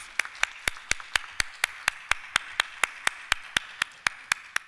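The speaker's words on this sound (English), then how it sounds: "let's give all of our panelists a round of applause" Audience at a summit panel clapping for the panelists: crisp, evenly spaced hand claps in a fast regular beat, close and distinct rather than a blended roar, with a faint background hum.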